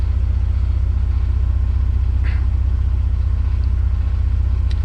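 Steady low idle of a warm 1991 Mercedes 300E engine, a constant close rumble with an even pulse, joined by a couple of faint brief ticks or clicks partway through and no speech.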